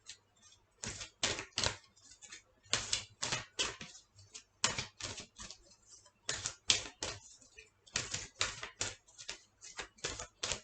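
Oracle cards are handled and shuffled by hand, producing repeated crisp, papery bursts in uneven clusters, close and fairly quiet.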